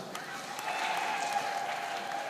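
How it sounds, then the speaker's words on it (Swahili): Audience applause at a mission anniversary celebration in Same, Tanzania: soft, distant crowd clapping heard as a faint continuous patter over a hum-like background tone. "Tumpigie makofi ya kutosha."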